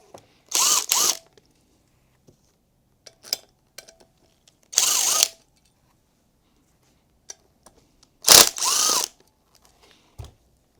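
A power tool undoes the three starter ring bolts on a Ferrari 348/355 flywheel, with three loud close bursts of whirring rattle separated by quiet gaps and faint small metallic taps.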